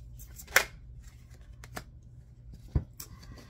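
Tarot cards drawn and handled on a table, soft rustles and a couple of sharp snapping flicks, close and quiet, no speech.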